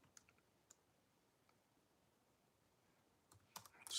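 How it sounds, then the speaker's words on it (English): Light, sparse typing on a computer keyboard, a few isolated soft key clicks spread out, then a quick cluster of louder clicks at the end, quiet and close. "I'm just typing"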